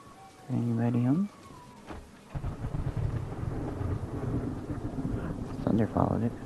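Thunder in the video game Choo-Choo Charles, a low rumbling roll with rain and wind that runs under a voice, with a couple of louder bursts.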